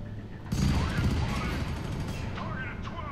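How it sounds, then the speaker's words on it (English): Gunfire rattles through dense crackling in the first-person shooter FEAR 3. Sustained mid-level bursts of shots run for a few seconds, and someone talks over them. "You got some bullets coming your way."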